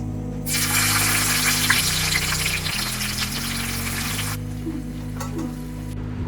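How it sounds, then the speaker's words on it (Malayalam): Chopped onions hit hot coconut oil in a pan, bursting into a loud, dense, continuous sizzle that holds steady, then eases slightly near the end, with no voices over it. "ഇനി നമുക്ക് അരിഞ്ഞു വെച്ചിരിക്കുന്ന സവാള ഇട്ട് കൊടുക്കാം"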